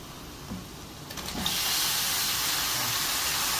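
A sudden loud hiss erupts partway through and holds steady as duck meat hits a hot pot and sizzles hard.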